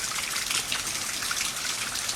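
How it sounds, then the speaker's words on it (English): Steady rain water trickling and dribbling outdoors after a night of rain, with pooled water under a tree; a continuous, even patter and drip close by with no voices. "And I expect it'll rain all day."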